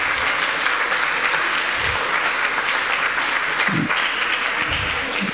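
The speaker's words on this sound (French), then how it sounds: "On peut encore l'applaudir une dernière fois." Sustained audience applause in a lecture hall for historian Jean-François Condette after a talk on teacher training history, dense and even, with a few low thumps and shuffles mixed in.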